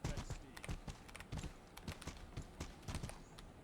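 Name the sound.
horse hoofbeats in the video game Mordhau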